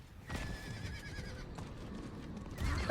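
A horse in Diablo 4 in the Dry Steppes, a whinny followed by scattered hoofbeats and game ambience, fairly close, with a louder burst at the end and no talking.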